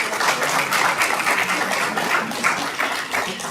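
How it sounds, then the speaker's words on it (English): Steady applause from an audience at a Scottsdale school district governing board meeting, a continuous even wash of clapping held at moderate loudness for the whole stretch with no voices over it. "Yay, you can clap, you can clap."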